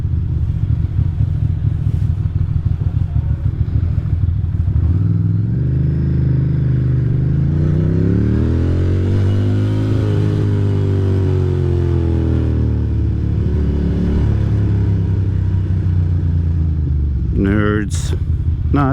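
A Ducati Monster 620 motorcycle idles and revs, the engine climbing and falling in a loud, close swell, with a brief sharp rev near the end and a person's voice now and then over the engine.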